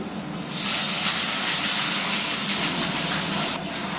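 Whole spices, two bay leaves and chopped onion hit hot oil in an Indian chicken posto preparation, giving a loud, steady, broadband sizzle and hiss that holds throughout with no talking.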